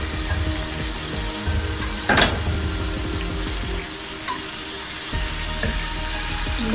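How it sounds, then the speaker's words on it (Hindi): Mutton sizzles steadily as it fries in masala gravy, a continuous close crackle with brief clinks and stirring scrapes of a utensil. "इसको 5 मिनट के लिए भूनेंगे। मसाले में अच्छी तरह मिक्स करेंगे"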